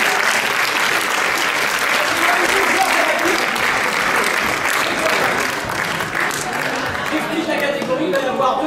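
Steady, dense audience applause fills an improv match show, loud and sustained throughout with a faint murmur of crowd beneath.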